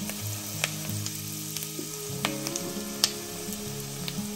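Chopped onion sautéing in a pan for tofu adobo, a steady close sizzle with scattered pops and crackles and a few scraping stirs, no voices.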